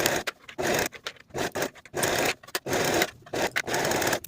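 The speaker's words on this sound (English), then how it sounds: "Now I'll sew both of those underarm and side seams with a 1/4 inch seam allowance" A sewing machine stitches the underarm and side seams of a raglan top in short bursts, each run of rapid mechanical whirring broken by brief pauses as the fabric is repositioned, close and clear with no voices.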